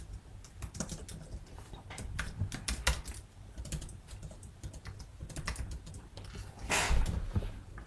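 Keys clattering on a computer keyboard as code is typed, irregular bursts of quick taps with brief pauses, close and clear with no talking.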